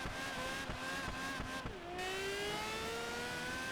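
A Ferrari F50 racing in Project Gotham Racing 4, its engine droning steadily through the gears with a pitch drop at a shift, then rising again, faint and continuous without talk.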